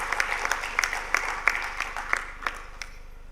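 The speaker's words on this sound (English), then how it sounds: "May I request all of you to give a big round of applause to our ministers also." Applause for ministers at the launch of the PM E-DRIVE scheme, a moderate round of clapping with distinct sharp claps scattered through it that slowly thins out and fades toward the end.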